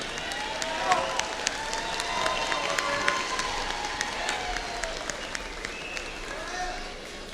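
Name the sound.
commencement crowd applauding and cheering for supporters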